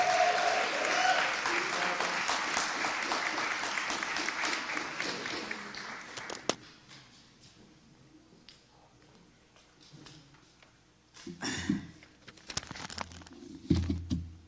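An evening celebration crowd claps loudly as Carol Anderson is called up, dense applause that gradually thins out, with a few scattered claps and some rustling after it dies down.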